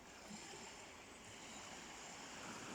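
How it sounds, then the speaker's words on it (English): Waves lapping at Moosdale Beach at dawn, a steady, soft wash of water with no distinct breaks, quiet and continuous throughout. "listen to the lapping waves here in Moosdale Beach"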